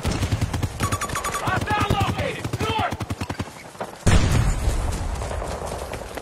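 Rapid gunfire bursts and explosive rocket blasts in the video game Battlefield 2042, loud and close with a sharp boom near the end, mixed under a person talking.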